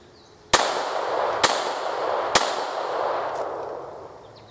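Three sharp pistol shots at a firing range from a SIG P229 DAK or Glock 23, spaced about a second apart, each loud and close with a long echoing decay trailing behind.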